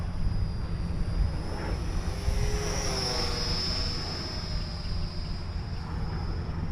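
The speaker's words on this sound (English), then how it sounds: "That geared motor is pretty loud" A small geared motor of a WLToys XK A250 BF-109 toy plane drones with a steady high-pitched whine that swells and fades as the plane passes, over outdoor background noise.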